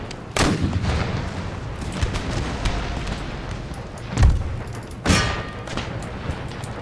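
Musket volleys and artillery fire in Empire: Total War, a steady crackle of distant musketry punctuated by three heavy booming cannon shots, with no voices.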